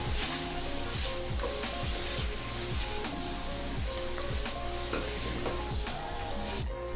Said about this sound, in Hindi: और अब इसके अंदर मैं डाल दूंगी ये जो मैंने आलू फ्राई करके रखे हुए थे, ये इसमें चले जाएंगे।